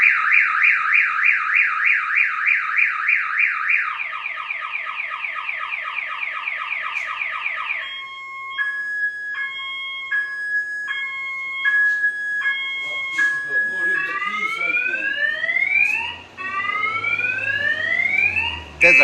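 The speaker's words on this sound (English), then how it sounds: "There's a car alarm going off." A car alarm cycles through several siren patterns: a fast warbling wail, a rapid chirp, steady repeated beeps, then rising whoops. It sounds loud and continuous with no talk over it.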